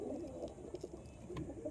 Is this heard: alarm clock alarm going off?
no